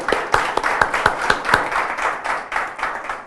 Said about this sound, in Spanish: nuevamente un gran aplauso a Javier